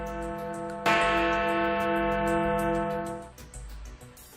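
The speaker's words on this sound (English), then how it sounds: "its famous Big Ben clock, which rings its bells every hour, and its sound is heard in central London" Big Ben's clock tower bell in London strikes once loudly and then hums in a long, slowly fading resonant tone, with a faint tick-like patter in the background.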